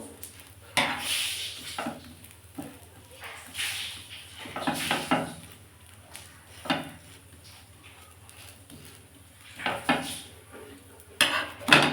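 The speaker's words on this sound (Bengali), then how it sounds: "একটু চেপে চেপে একটু ভেজে নেবো" Metal spatula scraping and clinking in a pan as a patisapta crepe filled with kheer is pressed down and fried, with irregular clatters and knocks near and fairly loud, no talking.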